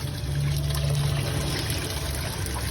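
Running water trickles and splashes steadily as something is rinsed after being lifted out of boiling water, a close, continuous pouring sound.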